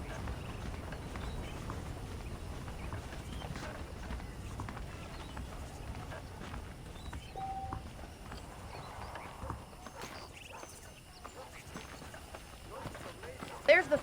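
Horse hooves clip-clopping in the Western video game Red Dead Redemption, a steady soft rhythm of plodding steps under a faint outdoor ambience, with a voice speaking over it.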